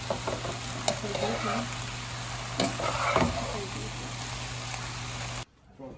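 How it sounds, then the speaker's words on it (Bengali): A chicken seekh kabab mixture is stirred and fried in a pan, with a steady sizzle and a few scraping stirs close by, a voice faintly in the background, and an abrupt cut near the end. "শিশ কাবাব রেডি হয়ে গেছে, সব কিছুর সাথে একসাথে মিক্স করে নিতেছি।"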